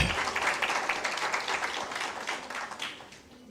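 Sustained audience applause at a university accounting symposium and book launch, a dense even clatter of many hands that slowly tapers toward the end.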